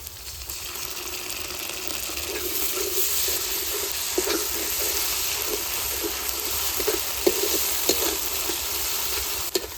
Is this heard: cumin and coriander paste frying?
yes